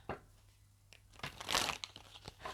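Tarot cards crinkling and rustling as they are handled and one is pulled from the deck, a few soft taps followed by a louder papery shuffle, close and quiet with no talking.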